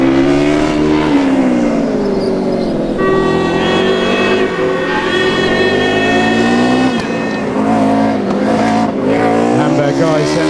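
A Formula Student race car at an endurance event in Germany, 2009, its loud high-revving engine droning steadily as it drives past on track, pitch bending with gear and speed changes, with a commentator talking over it.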